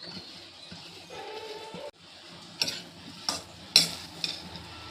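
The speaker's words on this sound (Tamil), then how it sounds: "2 ஸ்பூன் நெய் ஊற்றிக்கணும். சூடானது தேங்காய் அதில் போட்டு வறுத்து" Grated coconut roasting in two spoons of hot ghee in a pan for panai olai kolukattai, a soft low sizzle with occasional sharp scraping and stirring clicks from a spoon, close and fairly quiet.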